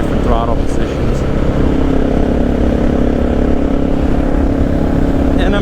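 Honda XR650L motorcycle engine running steadily while riding, a continuous loud drone with wind rush throughout, unchanging in level.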